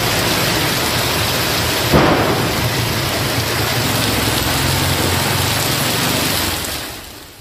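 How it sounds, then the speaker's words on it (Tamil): Heavy downpour with thunder over areas such as Maduravoyal, Koyambedu, Valasaravakkam and Vanagaram: a steady, dense roar of rain fills the whole stretch, with a sharp thunder crack near two seconds and low rumbling beneath, fading slightly at the end. "இடி மின்னலுடன் கனமழை பெய்தது"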